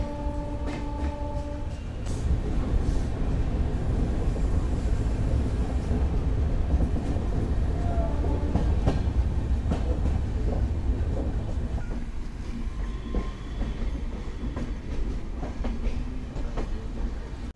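A Shatabdi Express from New Delhi to Kathgodam runs on rails, giving a steady, loud low rumble with rhythmic clatter of wheels over rail joints, continuous throughout without talk.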